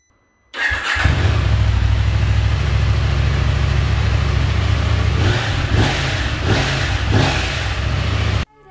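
KTM 890 Adventure R motorcycle running on its stock Euro 5 exhaust, a steady, close, loud engine drone that swells with several sharp throttle blips toward the end, with no talking.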